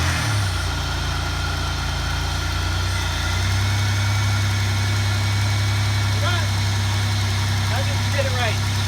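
A 2002 Pontiac Grand Prix engine with new spark plugs and wires starts and settles into a steady idle, a loud continuous low rumble with a faint higher tone and a few brief squeaky sounds near the end.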